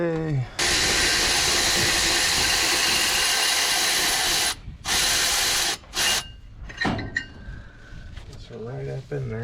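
A power tool loosens the water pump bolts on a 1972 Jeep CJ5, running in a long loud whirring burst, then stopping and restarting in a few short bursts, followed by quieter clanks and brief speech.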